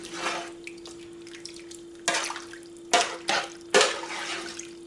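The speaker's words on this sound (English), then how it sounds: "And then we're going to give it a stir." A spoon stirs venison neck soup in a pot after 3.5 cups of water are added, giving irregular scraping knocks and liquid sloshes over a steady low hum, with no talk.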